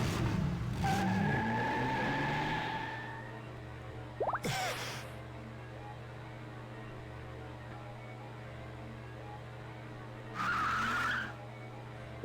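Car tires screech and skid in the Dr. Brain video game, with a sharp squeal near the start and another short skid later over a steady engine hum.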